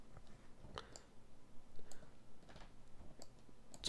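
A computer mouse clicking while editing in Photoshop: faint, scattered single clicks, close but very quiet against a soft room hush.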